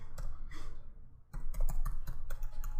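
Keys on a computer keyboard tapped in quick, uneven bursts, with a short pause midway, close and clear with no talking.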